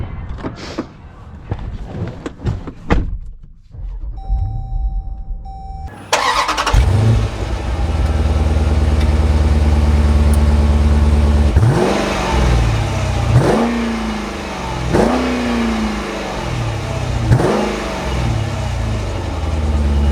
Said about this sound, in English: Let's take this SRT out and see how it drives.